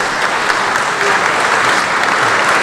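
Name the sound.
audience applause at a dinner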